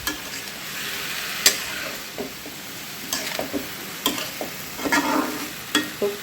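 A breakfast vegetable bhaji cooks in a pan with very little oil and spice, giving a soft, steady sizzle broken by sharp scrapes and knocks of stirring at irregular intervals, close by with no talk.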